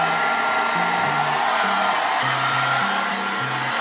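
A hair dryer blows steadily on permed hair, a close, even rushing hiss with a faint, wavering hum beneath it.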